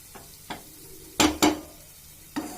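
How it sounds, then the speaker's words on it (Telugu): Cooked rice is mixed into wood apple pulihora in a pan, with a handful of sharp scraping stirs and clinks, two louder ones close together in the middle, over a quiet background. "ఇప్పుడు అన్నం కలిపేసుకోవడం"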